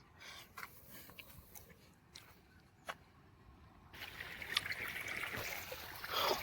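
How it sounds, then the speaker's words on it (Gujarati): Running water trickles and rushes steadily into a farm irrigation channel, growing louder and fuller partway through, with faint outdoor background noise. "અત્યારે બે જગ્યાએ પાણી ચાલુ છે"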